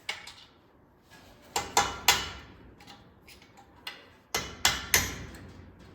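Hammer blows striking a loose steel dowel pin on a custom snowcat part to drive it out, a handful of sharp metallic knocks in uneven clusters, close and clear with quiet gaps.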